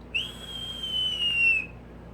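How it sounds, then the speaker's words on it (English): High, thin whistle of air rushing through the side airflow holes of an Augvape Astro RDA rebuildable dripping atomizer during a draw, one steady tone lasting about a second and a half, close and fairly loud. "When you do this, you're getting side airflow, and you're going to get that whistling."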